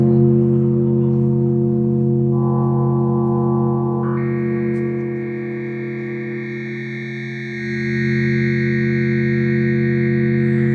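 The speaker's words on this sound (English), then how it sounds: "We're just listening to two perfect sine waves, but they're detuned in weird ways" Steady synthesized tones from FM synthesis with two detuned sine waves hum with buzzing, metallic overtones that jump in pitch partway through, thin out briefly, then swell back. Electronic and continuous, with no voices.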